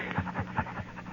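Dog panting in an old radio western drama, a run of quick rhythmic breaths repeating about five times in close succession, fairly near and moderately loud with no talk over it.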